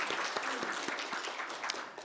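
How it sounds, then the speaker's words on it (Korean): A Sunday worship congregation applauds in a large sanctuary, a quiet, even wash of many hands clapping continuously, somewhat distant and soft. "크게 감사와 영광의 박수를 돌리겠습니다"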